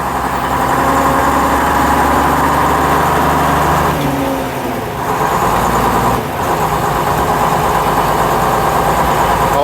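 A 1956 Daimler double decker bus with a pre-selector gearbox runs loudly close up, its deep diesel engine droning steadily, with brief dips in pitch and level as gears change from third into fourth.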